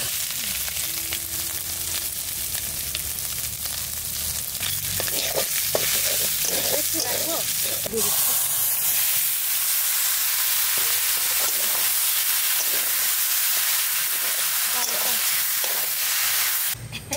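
Taro leaves go into spiced chicken frying Bengali style, and steady sizzling continues with stirring scrapes and clatters, a brief low hum early on, and a louder hiss once the leaves are in.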